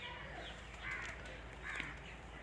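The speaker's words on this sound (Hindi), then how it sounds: "मेरे पीछे आप देख रहे हैं कौवे हैं" Crows caw at a Bhairav temple, the harsh calls rising a couple of times over a steady outdoor background hum.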